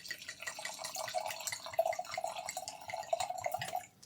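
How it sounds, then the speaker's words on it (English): Little Giant Shiraz from Australia is poured from a screw-cap bottle into a glass, giving a steady, close, gurgling liquid stream for about four seconds that trails off at the end, with no talking. "That's the pour sound."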